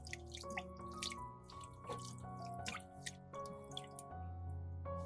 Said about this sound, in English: If the roots are very dirty, rinse them briefly to remove excess soil.